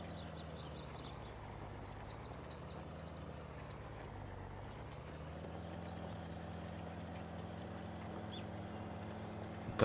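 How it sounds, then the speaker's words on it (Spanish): A tractor pulling a roller across a field in Farming Simulator 19 on an Argentine countryside map gives a steady, moderate engine drone with rattling, over faint chirping birds. "es mucho tractor para poco rolo"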